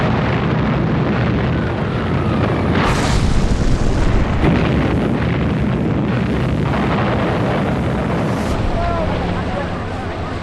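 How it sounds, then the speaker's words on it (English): Bombardment explosions during the D-Day landings, a continuous loud rumbling barrage of booms and bursts with sharper blasts standing out, while a narrator's voice runs underneath. "Under cover of the bombardment"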